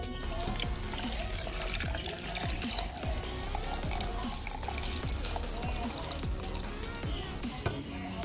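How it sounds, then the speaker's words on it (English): Water pours steadily over ice for several seconds, splashing and gurgling with scattered crackles and clinks, close and fairly loud. "I'm gonna pour it over ice."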